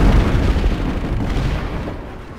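Heavy gunfire and explosive blasts from the online shooter Planetside 2 rumble loudly in a continuous, dense barrage during a base fight, fading slightly toward the end.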